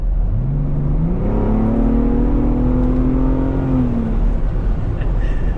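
A 2026 Ford Bronco Raptor with a 10-speed automatic pulls hard under acceleration, its engine note climbing steadily and close for several seconds before easing off, with a steady road roar underneath.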